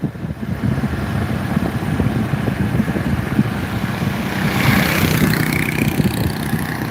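Loud wind buffeting the microphone during an evening drive, a continuous rough roar with low engine-like rumble that swells slightly toward the end.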